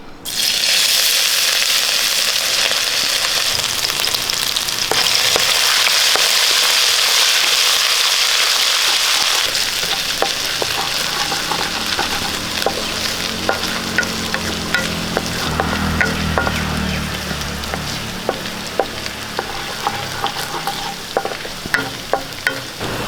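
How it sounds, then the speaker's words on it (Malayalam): Crushed ginger and garlic frying in hot oil for an easy chicken curry: a loud, steady close sizzle from the start, with occasional sharp clicks and scrapes of stirring running through to the end. "എണ്ണ ചൂടായിട്ടുണ്ട് ഇതിലേക്ക് നമുക്ക് ഒരു സ്പൂൺ ഇഞ്ചി വെളുത്തുള്ളി ചതച്ചത് ഇട്ട് കൊടുക്കാം"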